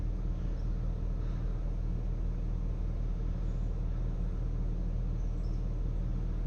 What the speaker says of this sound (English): sounds like my truck's going into regen